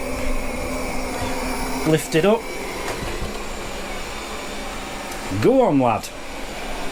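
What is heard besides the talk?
robot vacuum cleaner running over a thick rug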